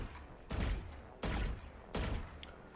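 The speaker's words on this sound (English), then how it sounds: "you're just going to shoot 2 bullets and move, and then do it again" Gunfire in the tactical shooter Valorant, fired as short two-round bursts with pauses between; three loud, close bursts ring out one after another with brief gaps, no talking.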